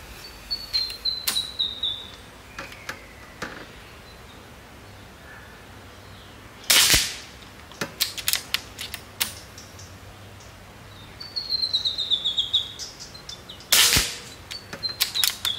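A Seneca Eagle Claw .25 caliber air rifle fires pellets in two sharp, loud shots several seconds apart, with fainter mechanical clicks and handling noises in between.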